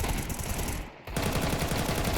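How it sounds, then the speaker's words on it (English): Rapid stream of pistol shots in a competitive video game match, a continuous dense burst of gunfire filling the whole stretch with one brief gap near the middle. "16 bullets! Just see what that looks like from Flames' POV. A stream of pistols"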